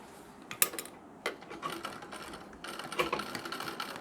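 A sewing machine stitches a chain onto a nauvari saree in short, close bursts of mechanical whirring and clicking, with brief pauses between runs.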